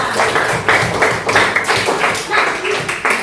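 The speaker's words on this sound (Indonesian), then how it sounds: "tepuk tangan buat kita semua" A classroom group claps together in loud, close bursts that fall into a patterned rhythm, with voices mixed in between the claps.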